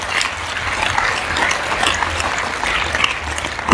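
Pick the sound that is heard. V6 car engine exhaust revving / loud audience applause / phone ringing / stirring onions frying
loud audience applause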